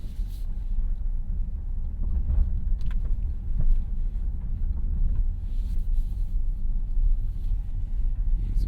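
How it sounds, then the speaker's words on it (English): A Kia EV6 GT rolls over pebble-strewn road on big tires, heard from inside as a constant low rumble of tire and road noise with faint ticks and crackles from small stones, no talking. "These big tires, you can hear the road talking to you."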